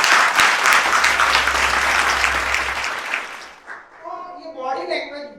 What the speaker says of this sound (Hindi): तो नारी शक्ति के लिए जोरदार तालियां।